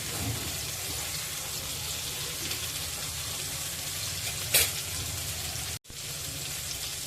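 Pomfret fish fry gently in a pan over low gas, a steady close sizzle with a short sharp crackle partway through and a brief dropout near the end.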